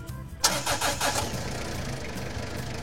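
A key-started UTV engine, a Sun Buggy quad-style vehicle, catches after a brief crank and settles into a steady mid-pitched idle with a few pulsing surges, loud and close, with no talk over it.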